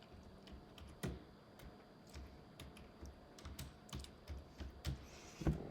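Computer keyboard being typed on during network troubleshooting, with irregular, close, crisp key clicks scattered across a quiet room, some strokes louder than others, no talking.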